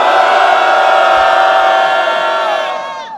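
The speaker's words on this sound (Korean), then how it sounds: "크게 함성 시작!" Crowd cheering and shouting in unison at a peace rally against war, a loud, sustained roar of many voices that holds steady before fading at the end.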